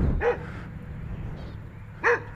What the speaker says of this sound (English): There's like something barking in the woods over there.